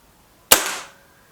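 A single sharp shot from a Beeman 1357 air pistol, a sudden crack that decays over about half a second, heard alone and close.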